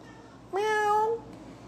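A cat gives a single clear meow of under a second, close and fairly loud, rising slightly before fading, with only quiet room noise around it.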